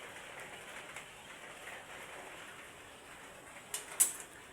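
Rain falling steadily outdoors, a soft even hiss of drops throughout, with a couple of sharper drips or taps near the end.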